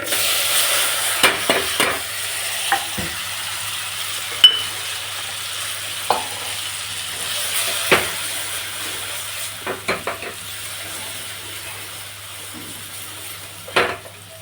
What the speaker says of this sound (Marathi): आता मस्त वांगे फ्राय करून घेऊ आपण मसाल्यामध्ये